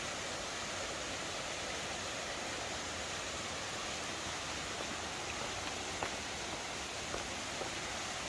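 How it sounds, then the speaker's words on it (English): Steady broadband rush of a waterfall pouring over rock into a stream along the Appalachian Trail, continuous and fairly distant, with a few faint clicks but no talking. "The waterfall."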